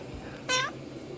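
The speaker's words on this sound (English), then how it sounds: "There's the cat. He wants to be in the video." A single short, clear meow from a house cat rises briefly out of quiet indoor room tone, fairly close by.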